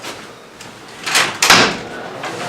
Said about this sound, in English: Let me just open the door for you.